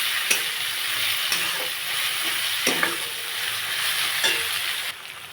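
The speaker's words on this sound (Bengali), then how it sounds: "মশলা খুব ভালো করে কষানো হয়ে গেছে" Spice paste sautéing in a pan for a Bengali koi fish curry, a steady close sizzle and hiss with several scraping stirs at regular intervals, and no talking.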